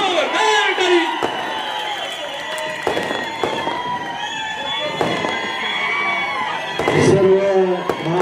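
Crowd at a political rally in Sangola clapping and cheering loudly and continuously, a dense roar with sharp bangs and shouts mixed in, while a voice calls over the noise.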